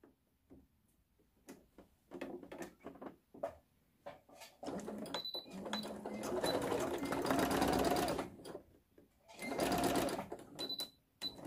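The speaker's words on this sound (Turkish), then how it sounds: "Önce dikişimizi ağ kısımlarından yukarı doğru dikmeyle başlıyoruz." A sewing machine runs in bursts while stitching the seams of fabric shorts for a 10–11-year-old, its needle ticking rapidly. There are short stop-start runs early, then longer sustained stretches of close, steady stitching, with brief handling clicks between them.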